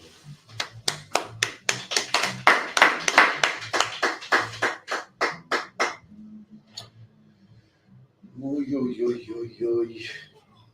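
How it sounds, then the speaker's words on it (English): Audience clapping in unison at a religious gathering, a steady, rhythmic series of about twenty sharp claps over six seconds, followed by a pause and then someone speaking. "Clap it up for the teacher."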